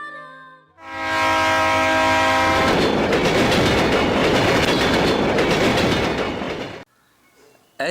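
A train horn blares in long sustained harmonic blasts in Mumbai, near the Dhobi Ghat outdoor laundry, then a loud train rumbles and clatters past close by before cutting off abruptly.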